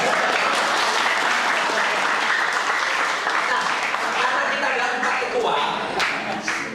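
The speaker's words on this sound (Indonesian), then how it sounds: "Kok gak ada yang tepuk tangan?" An audience at a health expo claps in sustained, dense applause that stays loud from start to finish, with a few voices mixed in.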